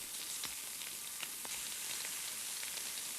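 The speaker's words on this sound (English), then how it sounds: "a 60-minute video of a steak sizzling" Steady sizzling and crackling of steak frying in a hot pan, a continuous hiss dotted with sharp little pops, close and fairly quiet.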